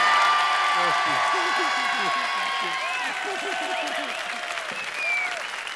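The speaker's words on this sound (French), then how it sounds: "je voudrais qu'on applaudisse encore le bouleversement de Vanessa Paradis" A television studio audience applauds in a sustained, even wash of clapping, while voices talk over it and a few louder whoops come through near the end.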